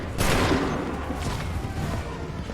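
Musket volley fire in Assassin's Creed 3: a loud burst of massed gunshots opens, followed by a rumbling, crackling tail of scattered shots and echoing booms fading slowly.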